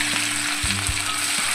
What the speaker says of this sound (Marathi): तर आपण आधी अद्रक घालूया.